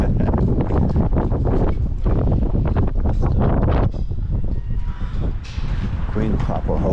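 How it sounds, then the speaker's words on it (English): Gusty outdoor wind buffets the microphone in heavy, roaring bursts that nearly drown out everything else, easing slightly toward the end. "battling the wind"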